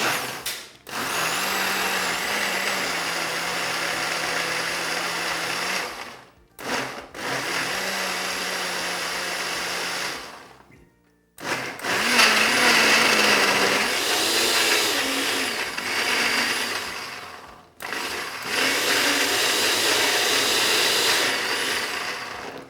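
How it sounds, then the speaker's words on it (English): An electric blender making a smoothie runs in loud whirring bursts, pausing briefly between runs, its motor pitch dipping under load. No voices. "So let's blend this a little bit."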